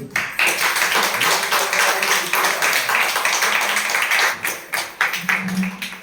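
A seated audience claps loudly and continuously for several seconds at a mentoring session. The applause is dense and steady with small dips in intensity.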